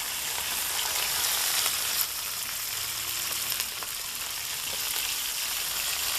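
Bell pepper goes into a hot pan for a Congolese chicken in white sauce, crackling and sizzling continuously at close range with small spits and bursts over a steady frying hiss.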